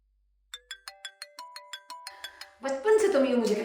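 A phone ringtone plays a bright, rising series of electronic chimes, about a dozen quick notes, before a voice starts talking over it.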